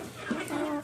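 A brief, faint chicken cluck sounds once or twice against quiet background noise.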